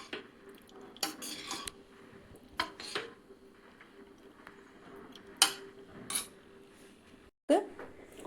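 Egg fried rice with soy sauce being mixed in a pan, heard as repeated clinks and scrapes of a metal utensil against the pan in irregular bursts over a low background.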